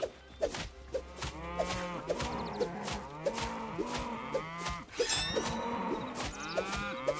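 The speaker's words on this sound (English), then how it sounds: "These are cows." Several cows in a video game (Hytale) moo in overlapping calls, close by and fairly loud, with a constant rumble in the background.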